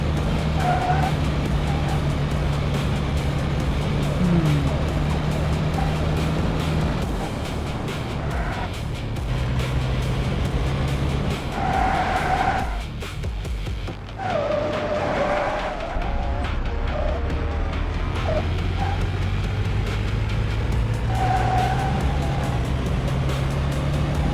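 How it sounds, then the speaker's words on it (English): Engine roar with repeated tire squeals and skids as a car corners hard in a driving video game, steady and fairly loud throughout, no talking. "The tire sounds were a bit less loud."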